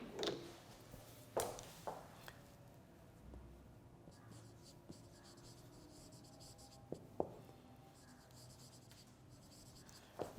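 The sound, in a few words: writing by hand during a lecture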